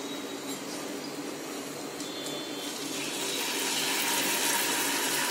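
Butterscotch syrup poured over homemade popcorn gives a steady, close liquid trickle with soft wet hiss, swelling slightly louder toward the end, with no talking.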